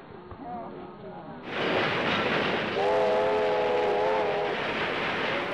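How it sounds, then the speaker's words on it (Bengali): A train pulls into an Indian railway station: low background noise gives way to a loud rolling rumble, then a sustained multi-tone horn blares for about two seconds over the continuing roar. "ওই তো ট্রেন এসে গেছে গো"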